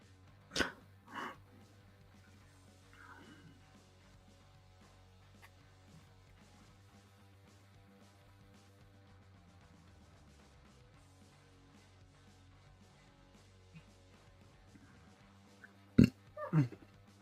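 A person sneezes once, sharply and close, near the end of an otherwise quiet stretch in a room, after a smaller abrupt vocal burst earlier on.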